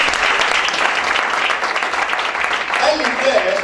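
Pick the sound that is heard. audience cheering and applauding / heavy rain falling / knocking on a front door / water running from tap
audience cheering and applauding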